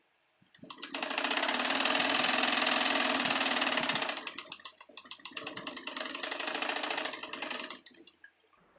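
Sewing machine stitching blouse fabric, a steady close whirring run of about three seconds, a brief slowdown, then a second continuous burst before it stops.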